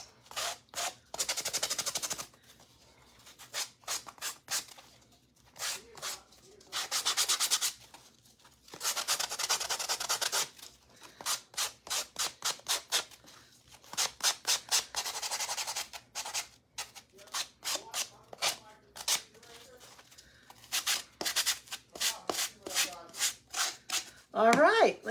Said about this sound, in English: I'm just kind of sanding off some of the spots where there's lifted paint.